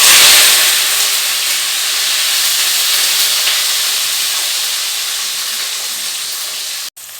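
Mustard seeds hitting hot oil for tempering a chutney, a loud steady broad hiss and sizzle that fades slightly before a brief cut near the end.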